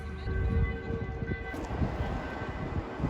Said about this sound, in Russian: Дрезденские трамваи.